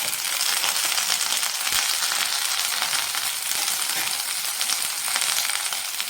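A handful of mint leaves sizzles in a hot pan while mint chutney is made. A steady, loud, hissing fry runs for the whole stretch, with a few faint clinks and stirring sounds.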